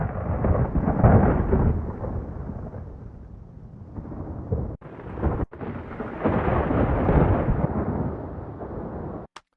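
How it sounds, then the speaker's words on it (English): Deep, rolling thunder rumbles loudly and continuously, swelling and fading in long waves with a brief break midway, no voices present. "These thunder recordings are from the Recordist"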